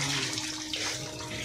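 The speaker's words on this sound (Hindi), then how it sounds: "देखिए आप देख सकते हैं कितना प्रेशर में पानी आ रहा है।" Water rushes hard and steadily out of a newly fitted suction pipe under motor-pump pressure, a loud, continuous, close-up gushing roar with no speech.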